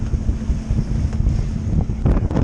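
Steady wind roars across a microphone aboard a cutter-rigged sailboat on open water, a continuous loud rush with gusty swells and a brief burst of flapping near the end.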